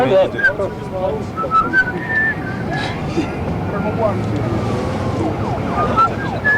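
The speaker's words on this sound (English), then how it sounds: "Look at his face, he'll whistle." A man in a mask whistles a few short, thin, wavering notes amid busy background noise and voices.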